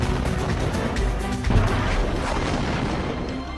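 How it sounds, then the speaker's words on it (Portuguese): In war-torn Aleppo, Syria, an explosion sounds as a heavy, muffled boom around the middle, surrounded by continuous loud broadband rumble and crackling. "E a poucos metros tem mais uma explosão."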